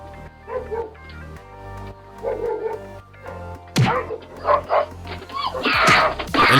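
A dog barks repeatedly in short bursts, some sharp and close, with yips and whimpering sounds, growing louder toward the end.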